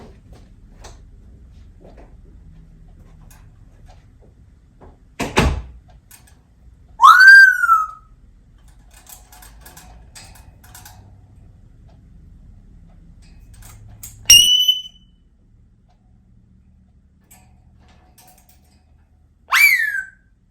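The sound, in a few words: African Grey parrot imitating a burglar alarm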